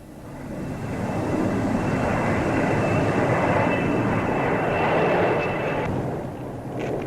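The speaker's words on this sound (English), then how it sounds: "There's the delta-shaped Vulcan, another of Britain's newest bombers." Roaring overhead, an Avro Vulcan delta-wing jet bomber in 1953 builds from a rising rush to a sustained, loud whoosh, then fades slightly toward the end, with no talk.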